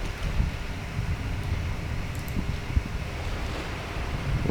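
Waves washing against the base of a huge stone monolith in the Dagon game, a continuous low surf rumble with wind noise, steady and close, no voices.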